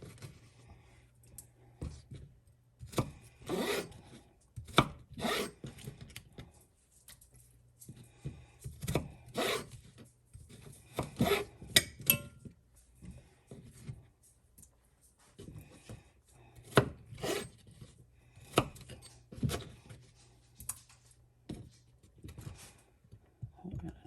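A knife chops food into bite-sized pieces for soup, making bursts of sharp, close taps on a board separated by quiet pauses, with occasional low background hum.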